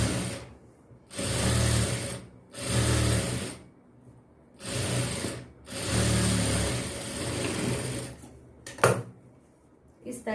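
A sewing machine stitches a blouse strip in several bursts of whirring, each a second or more long, separated by short pauses, close and moderately loud, with a brief clatter near the end.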